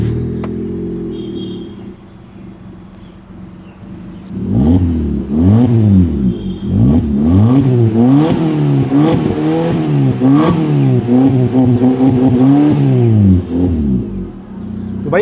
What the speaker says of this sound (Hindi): एक बार भाई इसी के साथ थोड़ी सी ना आवाज सुन लेते हैं कि एग्जॉस्ट की कैसी कुछ आवाज होने वाली है।